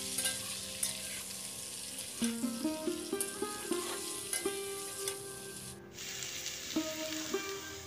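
Spices with salt and turmeric sizzle in hot oil over a medium flame. A utensil stirs them, making repeated clinks and scrapes against the pan over a soft, continuous frying hiss.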